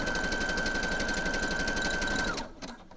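A sewing machine zigzag-stitches elastic onto knickers in one steady, close run of rapid stitching that slows and stops near the end.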